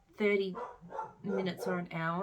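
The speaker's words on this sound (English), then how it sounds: "Sorry, that's my dog." A pet dog barks repeatedly indoors in a home, sharp close barks mixed in with a person talking.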